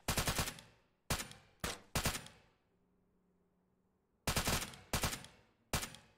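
Gunfire in a military video game: several sharp bursts of automatic fire, some short and some longer, separated by a quiet stretch with a faint low hum, fairly close and with no talk over it.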